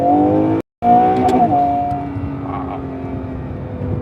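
An Acura NSX Type S pulls away in first gear in manual mode, its engine note climbing loudly in a rising rev, broken by a brief gap, then settling into a lower fading drone.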